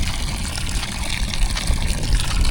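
Water gushes and splashes steadily from a hand pump in Hyderabad, Pakistan, a loud, continuous broadband rush filling the whole moment without any talking.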